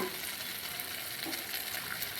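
Spice paste frying in oil for a pointed gourd gravy, a soft, steady sizzle close by, quiet and continuous with no talking.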